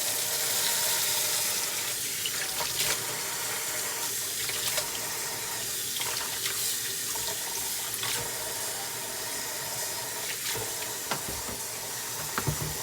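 Lukewarm tap water runs steadily from a faucet into a sink for washing a human hair wig, a loud continuous splashing stream with faint clinks, close up and without speech.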